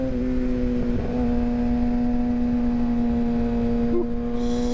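A Kawasaki ZX6R motorcycle engine runs steadily at a constant throttle, giving a continuous close hum with a brief rise in revs near the end.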